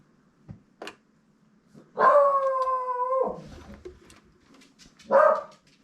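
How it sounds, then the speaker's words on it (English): Dogs bark and howl at a distance: a few short yips, then a long sustained howl lasting over a second, with another burst of barking and howling after a short pause. "And tell your dogs to stop barking."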